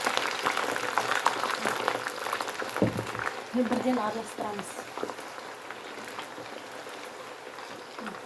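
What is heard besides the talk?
potatoes frying in hot oil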